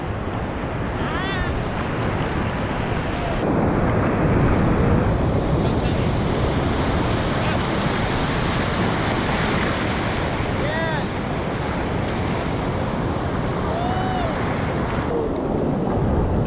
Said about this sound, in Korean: 와 파도 죽인다 죽여